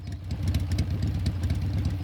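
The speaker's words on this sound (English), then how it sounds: "Cut the engine. They'll hear us." A vehicle engine idles steadily in Metal Gear Solid 3, a low continuous rumble with a fast throbbing pulse, close and fairly loud throughout with no voices.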